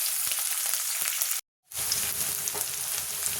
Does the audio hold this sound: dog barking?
no